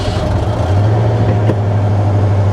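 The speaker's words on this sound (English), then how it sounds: "as soon as you turn the power steering, it dies" The engine of a cheap auction car idles loud and close, then its low hum sags and strains as the power steering is turned, with one brief knock partway through.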